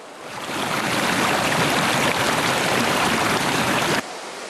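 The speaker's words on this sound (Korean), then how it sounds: "겨우내 꽁꽁 얼어붙었던 계곡에도 맑은 물소리가 싱그럽습니다." A clear spring stream in a mountain valley on Seoraksan rushes in a steady, full roar of flowing water that holds evenly, then drops sharply to a softer trickle near the end.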